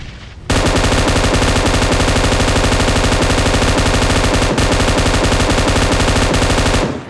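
Sustained M249 machine gun fire in PUBG Mobile, a loud, rapid, unbroken burst of shots lasting several seconds with only a brief hitch midway, heard alone without talk.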